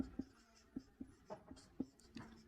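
Pen strokes while writing out the value of d in a class 10 math solution, a series of short, soft scratching taps in an irregular rhythm, close and quiet, with no talking.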